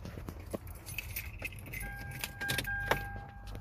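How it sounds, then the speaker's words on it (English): A car is started with its keys while ambient lighting is being installed: keys jangle close by, the ignition clicks, and a steady electronic chime tone sounds as the car comes on, with no talking. "Car's on."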